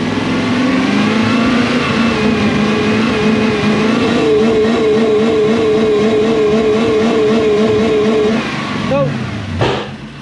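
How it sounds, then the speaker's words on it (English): A Toyota Celsior, also sold as the Lexus LS400, has its engine revved and held at raised rpm during fault diagnosis, loud and close, then settling down near the end with a brief voice over the engine. "Bring the revs up."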